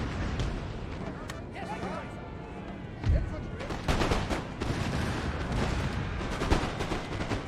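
Cannon canister fire in a Napoleon: Total War battle, with booming artillery and scattered musket shots over a constant dense battlefield roar, while someone talks throughout.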